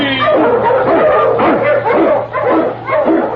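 A husky sled dog, a lead dog on a Yukon snow trail, barks and yips loudly and close in a rapid, excited series of repeated yelps, filling the whole stretch with little pause.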